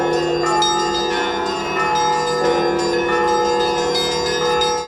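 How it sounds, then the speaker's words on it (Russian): Dozens of bells ring together over Saint Stephen's Cathedral after the liturgy and procession, a loud, continuous layered pealing with overlapping tones and rhythmic strikes. "Сегодня у нас фестиваль колокольного звона."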